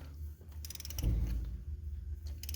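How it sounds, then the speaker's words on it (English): A torque wrench tightens a spark plug to 30 foot-pounds on an engine being revived after 35 years, giving a close series of ratcheting clicks with a short grinding creak partway through. "grab my torque wrench and tighten this until it gets to the 30 foot-pounds"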